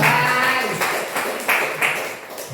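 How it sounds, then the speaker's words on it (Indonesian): Close, loud clapping from a small group at the end of a school gathering, a few stronger bursts standing out as the applause gradually thins over a couple of seconds. "Tepuk tangan sekali lagi buat Ibu Agustina"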